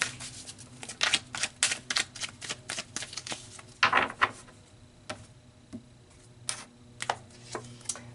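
Tarot cards are shuffled and pulled: a quiet series of crisp, papery snaps and flicks in an irregular rhythm, close by, with a denser riffle burst partway through and no talking.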